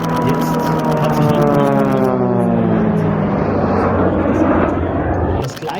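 Propeller drone of a Pilatus PC-7 trainer aircraft flying an Immelmann at an alpine airshow, loud and near with a shifting engine pitch that sweeps down through the pass, with the crowd murmuring beneath it.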